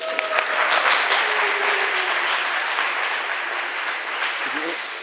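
An audience claps at a sermon, a dense, sustained burst of applause that fades slightly toward the end, with a voice speaking over it.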